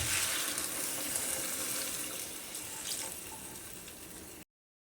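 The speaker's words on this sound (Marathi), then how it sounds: "गरम पाणी घालायचं" Steady rushing stream of hot water pouring close by into a pan of frying vegetables for sambar for several seconds, then abruptly stopping.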